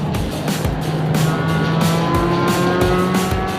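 Steady engine roar of a racing car with rising and falling pitch as it accelerates and shifts, continuous and loud throughout, no talking.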